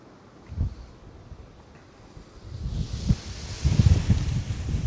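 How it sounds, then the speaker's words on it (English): Gusty wind buffets an outdoor street walk in Edinburgh after a storm, low rumbling gusts building from a mild start to steady, louder blasts against the microphone. "Oh, it's windy"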